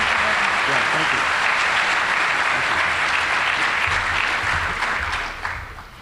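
Award ceremony audience applauding innovators at a business excellence awards event, a sustained, even wash of clapping from a large crowd that holds steady and then begins to fade in the final second.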